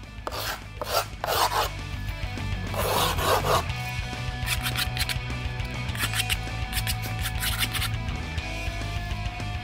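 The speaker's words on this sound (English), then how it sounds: "You want to take your scraper and just scrape around the edge," A metal scraper rasps around the edge of skateboard griptape in short bursts of gritty scraping, close and fairly quiet, followed by a series of quicker strokes.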